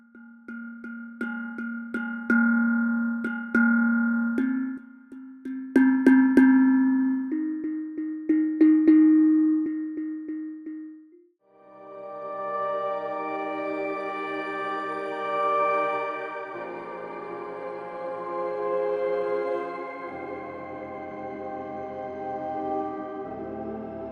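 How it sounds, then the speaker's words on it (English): Tuned metallic tongue drum notes struck one after another at varying strengths, each ringing and decaying, followed by longer sustained overlapping tones. "you get a really nice, mellow, but clear tongue drum sound"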